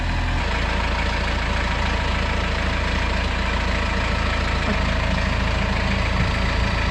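A Kubota tractor engine runs steadily nearby, a loud, dense low rumble and chug that holds constant throughout with no speech.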